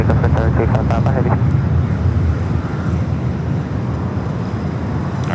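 A heavy jet airliner rolls for takeoff on runway 25 right at LAX, a broad loud roar with wind buffeting across the microphone, holding steady and then easing slightly, while a brief radio-like voice sounds near the start.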